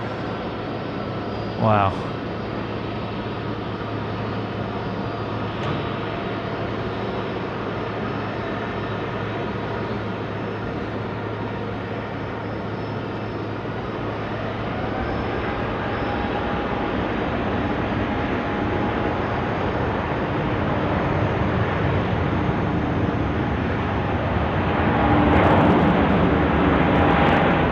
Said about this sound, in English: clear for takeoff. Runway 16 right.